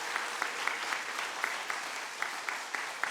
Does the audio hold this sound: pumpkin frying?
no